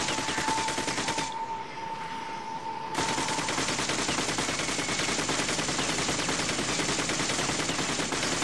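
Sustained automatic gunfire in the video game The Darkness, aimed at an enemy on a bridge: a rapid, continuous stream of shots, loud and close, briefly pausing before resuming.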